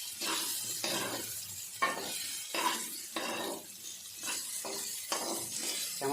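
Potatoes frying in a pan with turmeric and salt for a broccoli curry, sizzling close up with a steady crackle broken by repeated scraping stir strokes; no talking.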